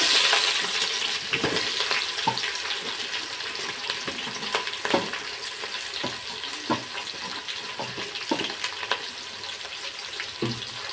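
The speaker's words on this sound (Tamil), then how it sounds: "இதுக்கப்புறம் நறுக்கி வச்சுருக்க வெங்காயத்தை போட்டுக்கோங்க" Chopped onions sizzle steadily in hot oil in a pan while cooking quail biryani, with scattered clicks of stirring over the continuous frying hiss.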